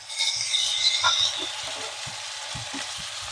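Ginger and garlic sizzling in hot oil in a pan for an egg and broad bean curry, a close steady frying hiss with a few soft scraping stirs.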